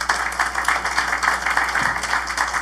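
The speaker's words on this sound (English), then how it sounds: "if you will give him a round of applause" A crowd at a city council candidate forum in Naples applauds a candidate: dense, continuous clapping that stays fairly even for a few seconds, with no talking over it.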